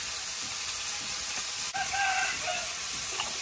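Bitter gourd and potato fry in oil with panch phoron, onion and turmeric, making a constant close sizzle while a rooster crows faintly in the background.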